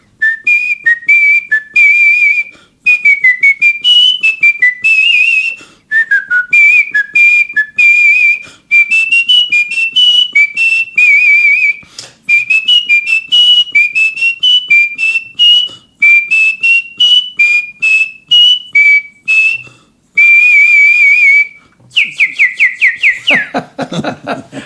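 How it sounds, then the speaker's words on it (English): A man whistles a lively tune solo, bright chirpy phrases in short bursts with brief pauses, close and clear, ending in a quick trill. "giving us a little sample of what some whistling sounds like"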